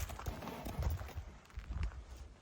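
A big, heavy horse offered for sale for ulak tartysh, its hooves clip-clopping close by in an uneven walking rhythm, fairly soft, with no clear talk.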